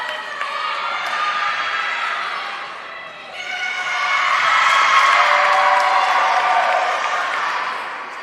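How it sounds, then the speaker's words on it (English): At a Frostburg State vs Glenville State acrobatics and tumbling meet, a crowd breaks into loud applause, whoops and cheers for a difficult skill. The roar dips briefly, then surges again and holds strong. "Sabungian drawing a huge round of applause there"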